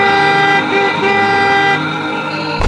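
A cartoon merchant's car comes along the road, its horn blaring a long, loud, steady multi-tone honk, sustained throughout and cutting off sharply at the end.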